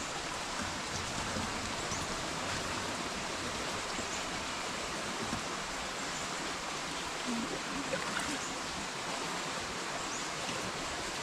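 A spring-fed mountain stream flows steadily in a constant soft rushing hiss, running nearby, with no other clear sounds.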